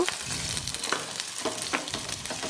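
Taro pieces sizzle and crackle in hot mustard oil with bursts of spattering, close up and steady, no voices.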